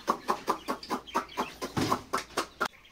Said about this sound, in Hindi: हमारे मास्टर केज के अंदर फिर कलरफुल चिक्स आ गई हैं